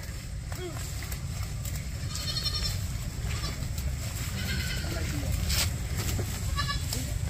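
Goats feed outdoors in a rural province after rain, giving a few scattered bleats over a steady close rumble of chewing and movement, with people talking throughout.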